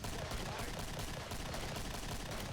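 Dense, continuous rapid gunfire from the video game Killing Floor rattles throughout, a loud sustained barrage without pause.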